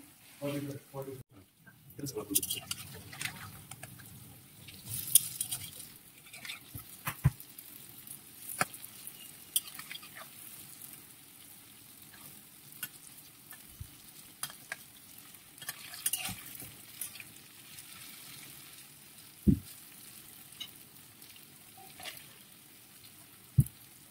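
Second batch of food frying in a pan, with soft sizzling and occasional stirring clinks and pops at close range, running steadily throughout the stretch under speech.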